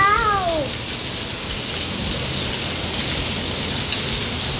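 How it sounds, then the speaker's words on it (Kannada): Hailstones striking hard surfaces outdoors during a storm, a dense steady hiss of many small impacts with a faint metallic ring, filling the whole stretch without pause. "ಅಲ್ಲಿ ಬೀಳ್ತಾ ಇದ್ದಾವೆ ಟಂಗ್ ಟಂಗ್ ಅಂತ."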